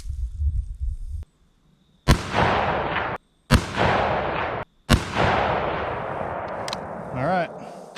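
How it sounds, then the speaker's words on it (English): Three loud, sharp deer-hunting rifle shots are spaced about a second and a half apart while the rifle is zeroed at 200 yards, each cracking report trailing off in a long echoing decay over quiet outdoor rumble. "So now I'm going to shoot 3 shots, go down there and check my zero and make an adjustment."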